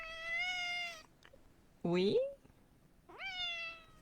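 A cat meows three times, the middle call the loudest and most rising, with a brief word spoken between calls.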